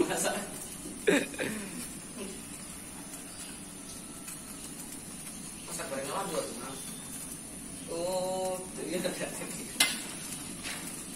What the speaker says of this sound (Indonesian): Diaduk-aduk guys, diaduk-aduk.